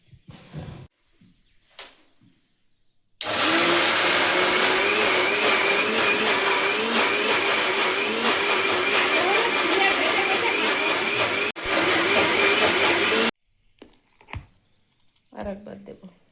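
An electric grinder whirs steadily for about ten seconds, loud and close, while grinding soaked lentils into paste. Brief voices come before and after the run.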